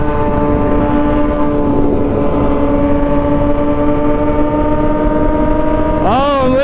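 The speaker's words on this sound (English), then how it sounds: "This kid's cranking wheelies at 70 miles an hour on a 636." A Kawasaki 636 sport motorcycle engine holds a loud, steady high-rpm drone while wheeling at around 70 mph, then sweeps sharply up and down in pitch at the end as the throttle is worked.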